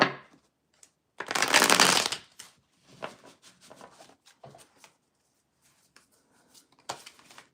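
A deck of tarot cards shuffled once in a single loud, close burst of riffling, followed by quieter scattered taps and slides of the cards, with a brief final flurry near the end.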